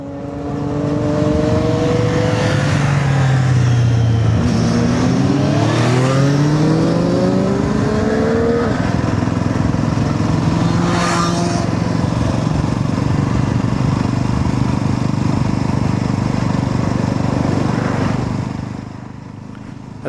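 A Yezdi Roadster motorcycle rides toward Tamhini Ghat on a mountain road, its engine droning steadily and loudly close by, with several rising and falling shifts in pitch as it accelerates and changes gear.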